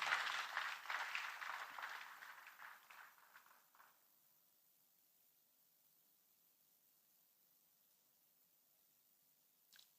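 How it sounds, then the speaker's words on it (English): A ceremony audience at a venture capital investment event applauds, fairly faint and distant, fading out over about four seconds into quiet room tone, with one small tap near the end. "Can we give her a round of applause,"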